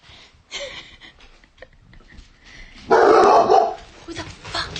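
A dog barks indoors in a short burst of loud, close barks around the middle, with quieter yips and people talking before and after.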